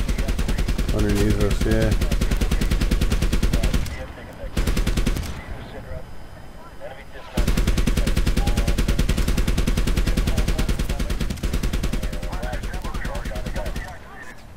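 Rapid, sustained bursts of 30mm cannon fire from an Apache helicopter in the Medal of Honor Warfighter game, loud and continuous, breaking off briefly midway before resuming, with voices talking over the gunfire.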